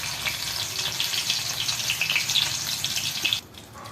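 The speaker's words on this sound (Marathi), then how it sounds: "कांदा चांगला परतून घ्यायचा. बघा कांदा परतला की त्यामध्ये जाईल टॅमॅटो." Onion and tomato sizzle steadily as they are sautéed in a pan for fried rice, a loud and continuous hiss with no voices.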